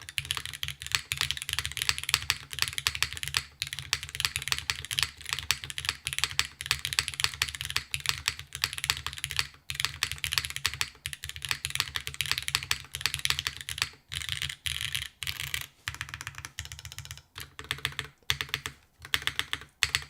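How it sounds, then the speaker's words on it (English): Steady, fast typing on a clacky mechanical keyboard, a dense run of close, crisp key clacks with brief pauses and occasional heavier spacebar hits, alone without talk. "I'll type a bit."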